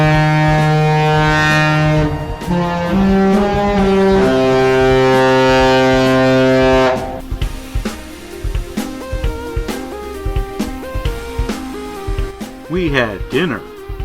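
Cruise ship horn on the Serenade of the Seas at sail-away, heard from a hotel balcony: long, loud, deep harmonic blasts for about seven seconds, followed by scattered knocks and a brief rising whistle-like tone.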